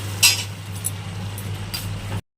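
A utensil scrapes and clinks against a pan while cauliflower stalks are stirred with tomato, green chilli, salt, turmeric and sugar, a few sharp metallic knocks over a low steady hum before abrupt silence.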